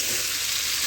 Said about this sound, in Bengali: ট্যাংরা মাছ এভাবে ভেজে নিলাম